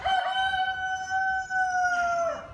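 A rooster crows one long, sustained call close by, with faint clucking of hens in the background.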